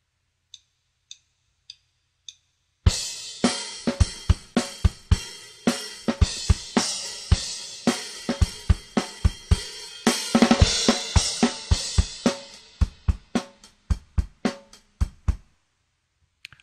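A dry, unprocessed drum groove plays steadily after a few soft count-in ticks, with sharp kick and snare hits and crisp cymbal taps in a regular rhythm.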